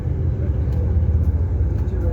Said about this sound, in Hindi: मोटरवे पे ट्रैफिक देखें जी,